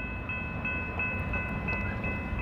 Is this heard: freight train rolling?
yes